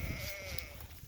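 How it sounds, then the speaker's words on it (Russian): Sheep and goats bleat in a walk through a Warsaw forest, one drawn-out nasal bleat rising over steady low rumbling background noise, fairly distant and faint. "обиделись на меня овцы и козы"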